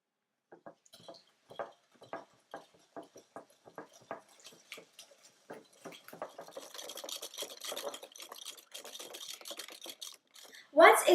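Vanilla extract, white granulated sugar and brown sugar being mixed together in a bowl for carrot cupcakes, heard as steady rhythmic scraping strokes that speed into a faster, denser whisking before a louder clatter at the end.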